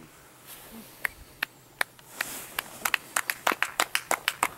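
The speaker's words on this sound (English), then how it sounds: "Little round of applause" A few people outdoors at a snowmobiling spot in Revelstoke, Canada give a small round of applause: scattered, faint single claps at first, then a quicker run of light claps near the microphone.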